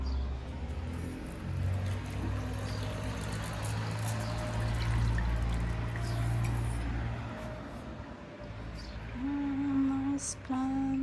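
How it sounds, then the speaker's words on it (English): Water pours from a container onto potted plants at an apartment in La Zenia, Spain, a soft continuous trickle and splash close by, lasting several seconds with a faint low hum behind. "I'm going to water these plants."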